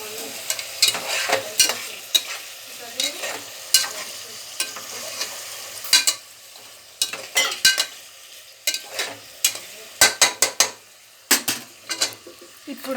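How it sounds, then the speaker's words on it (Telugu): Curry stirred and mixed in a pan, with repeated utensil scrapes and clinks in an irregular rhythm over a low background sizzle, close and fairly loud, with no talking. "నీట్గా మంచిగా కలుపుకోవాలి"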